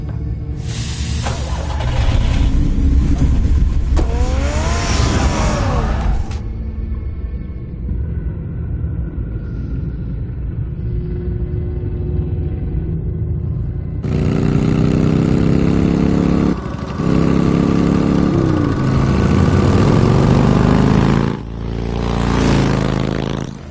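A car engine in the Batman Telltale game rumbles and revs in two long loud stretches, idling lower in between, with a steady drone and rising pitch sweeps as it accelerates.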